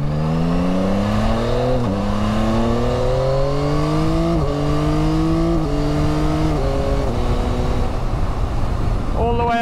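Yamaha Tracer 9GT motorcycle accelerating hard and quickshifting up through the gears, engine pitch climbing steadily then dropping at each of several shifts, loud and close with steady wind noise throughout.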